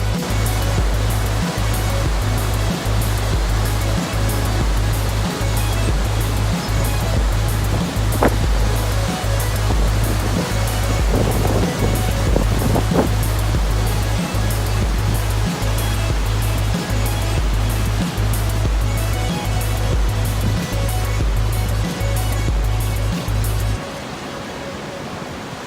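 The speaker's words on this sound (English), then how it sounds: "look at the strength and power of these rapids" Roaring rapids above the American Falls at Niagara, a loud, unbroken wash of rushing water that fills the whole scene at close range, with a faint rhythmic thumping underneath and no talk.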